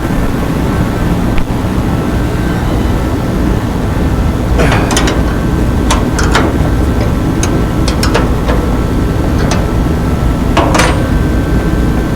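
A 9/16 ratchet wrench turns a bolt while decklid and door work is done on a Dart, with short bursts of sharp ratchet clicks rising over a constant background hum.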